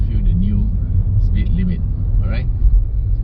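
Steady low road rumble from inside a car driving on an Australian road, continuous and fairly loud, with a voice talking over it.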